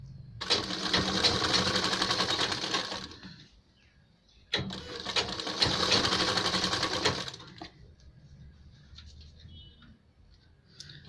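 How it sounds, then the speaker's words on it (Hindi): An electric sewing machine runs long straight stitches along a folded half-inch kurta hem, in two steady whirring bursts of about three seconds each, close and loud, with a short pause between them and a quieter stretch at the end. "इसमें भी हम लंबी सिलाई लगाते हैं।"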